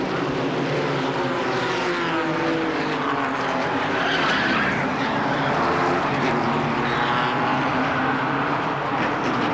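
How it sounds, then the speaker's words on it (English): Thirteen stock cars pile up in Turn 1 at Charlotte Motor Speedway, a loud, continuous roar of racing engines with skidding tires and grinding metal running unbroken throughout, no voices. "13 cars go sprawling across the Charlotte Motor Speedway after the mishap in Turn 1"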